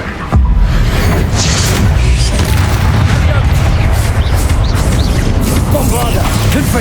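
Bombarda and Confringo spell explosions in Hogwarts Legacy, a sustained, loud wall of booming blasts and crashing combat noise that starts abruptly and runs throughout, with spoken spell names over it.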